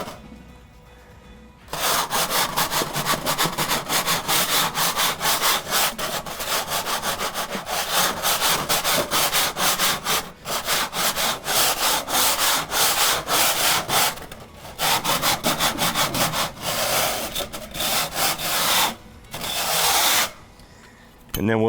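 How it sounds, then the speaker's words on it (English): Tool scraping high spots off an old concrete surface, giving long, loud, continuous abrasive grinding passes broken by brief pauses. "Now we know all the high spots are scraped off in that area."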